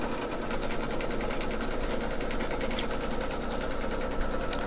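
An embroidery machine stitches out a snowman mug rug on fabric with backing, a steady, close, continuous mechanical whir with rapid needle chatter running alone throughout.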